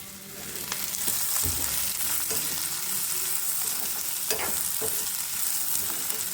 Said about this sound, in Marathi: मी आता हे चांगले भाजून घ्यायचे